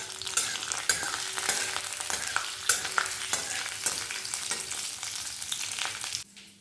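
Curry leaves fry in hot oil in a pan with a steady, close crackling sizzle, broken by sharp clicks of a spoon stirring against the pan before the sound stops abruptly.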